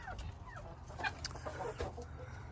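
Hens in a backyard coop cluck and murmur softly in short, scattered calls over a low steady background hum, fairly faint and a little distant.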